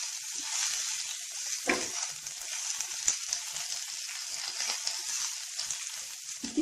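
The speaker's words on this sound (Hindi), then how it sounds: "और इसको भी थोड़ी देर के लिए हमें सौटे करना है।" Green chilli sauce ingredients sautéing in a pan, a thin, even high sizzle running throughout, with occasional soft stirring bumps, close and steady.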